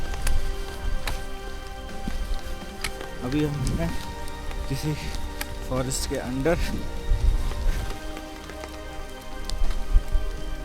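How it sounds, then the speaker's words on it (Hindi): Light rain from melting snow patters steadily through a Himalayan forest on the Brahmatal trek in sunshine, a soft continuous drizzle beneath a voice speaking nearby. "थोड़ी थोड़ी बारिश होने लग गई है"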